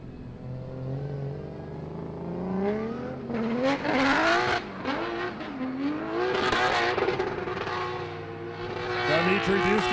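Drift race cars at Raceway Park rev hard, with engine tones rising and falling and tires squealing in long bursts. The sound is loud and continuous, with a commentator's voice mixed in.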